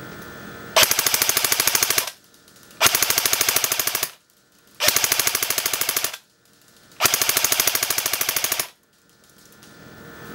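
A gun fires at a target 200 feet away in four long, loud bursts of rapid shots, each lasting about one and a half seconds and separated by short pauses.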